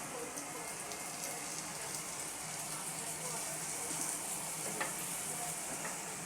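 Apple, raisin and carrot paste goes into a hot pan for a fruit paneer dish, giving a soft, continuous sizzle and stirring hiss, faint and even throughout with a few small scrapes.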